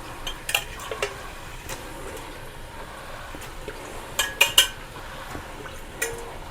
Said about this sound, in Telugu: ఇప్పుడు ఈ చికెన్ శుభ్రం కడిగి పెట్టుకున్న నాటుకోడి ఇందులో వేసేద్దాం.